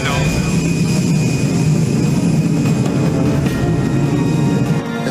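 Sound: rocket engine roaring at liftoff, from a Power Rangers Turbo episode

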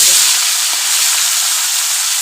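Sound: frying tengra fish in batches

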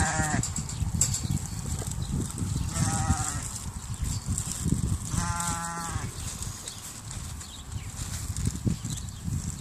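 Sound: goats bleating while being fed

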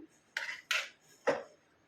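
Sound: putting boiled dal into a bowl

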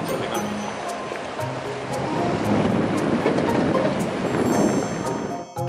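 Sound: ocean waves breaking on a beach

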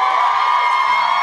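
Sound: concert crowd cheering

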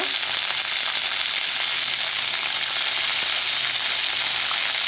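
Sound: beans frying and sizzling in a pan

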